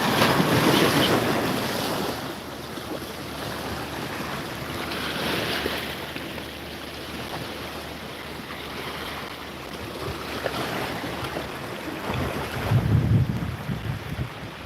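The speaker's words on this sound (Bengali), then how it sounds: "আমি এখন চলে আসছি একদম সমুদ্রের পারে দেখেন একদম সমুদ্রের পারে" Sea waves roll onto the seashore during heavy rain, a continuous broad wash of surf mixed with wind buffeting the microphone, steady and fairly loud with swells near the start and end.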